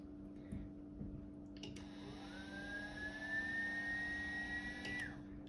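A Timemore Sculptor 078 coffee grinder motor spins up with a soft start into a steady high whine that holds evenly, close and fairly quiet, then winds down at the end.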